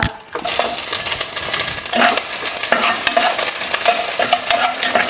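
Garlic, onion, green chillies, dried red chillies and curry leaves frying in hot oil for soup, a loud close sizzle broken by brisk scraping stirs of a ladle in the pan.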